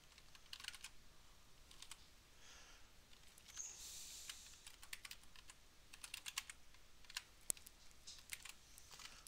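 Slow typing on a computer keyboard, with irregular bursts of close, crisp key clicks and short pauses between them, in a quiet room.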